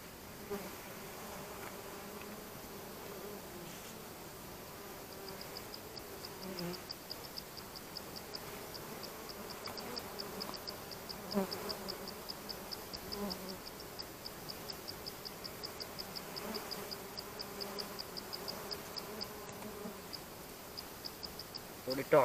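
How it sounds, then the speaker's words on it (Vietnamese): Wild bees buzz continuously around their nest in the forest, a steady droning hum with a thin high whine, moderately faint and close, with occasional voices and rustling in the background. "Đấy, ong này nghe."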